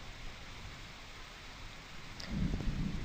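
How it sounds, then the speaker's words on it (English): Summer thunderstorm with steady rain hiss throughout, then a low rumble of thunder swelling near the end, fairly distant and soft. "let's just relax and listen to the rest of the thunderstorm"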